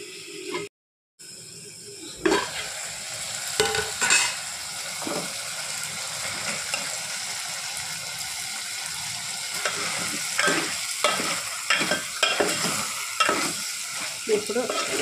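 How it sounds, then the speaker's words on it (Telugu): Mutton sizzles steadily in a hot pan while a spoon stirs it, scraping and clinking in irregular strokes, with no one talking. "ఇప్పుడు ఈ మటన్ నుంచి మనకు వాటర్ వచ్చే వరకు కొంచెం మగ్గించుకోవాలి"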